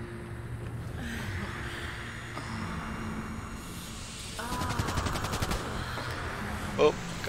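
Gunfire in Cyberpunk 2077 on Xbox Series X, a burst of rapid automatic shots over a steady background rumble, with a sharp louder report near the end; a voice speaks faintly underneath.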